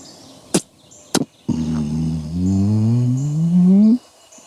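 A man imitates a strutting turkey tom's spitting and drumming with his mouth: two sharp spit-like pops, then a low, deep, steadily rising hum lasting about two and a half seconds, close and alone.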